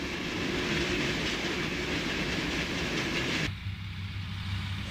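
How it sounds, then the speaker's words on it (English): A pair of Pennsylvania Railroad P5A box cab electric locomotives haul a freight train west through Lehman Place, a steady loud rumble of rolling cars and wheels that shifts to a lower drone near the end. "A pair of P5A box cab electrics take a freight west through Lehman Place"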